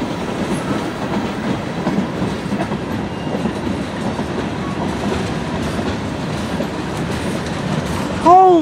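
A long CSX freight, Q410 behind engine 5426, keeps passing near at hand with a constant rumble and clatter of wagons, a brief tonal squeal or horn-like sound rising at the very end.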